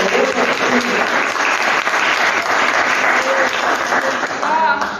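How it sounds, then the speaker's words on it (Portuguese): A church congregation applauding together, a dense, steady wash of many hands clapping that fills the room without letup, with a voice faintly heard through it. "Aplauda a Deus aqui nessa noite. Aplauda aqui nesse novo amor."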